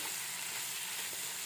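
Whole spices such as cloves, cinnamon, cardamom and coriander seeds sizzle in hot oil as they are stirred in a pan, a dense, even crackling hiss, close and steady.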